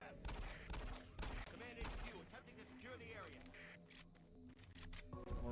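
Gunfire in Doom 3 BFG Edition comes as rapid bursts of sharp shots. They are loudest early, then thin out under a steady game backdrop, with a voice that seems to be talking over part of it.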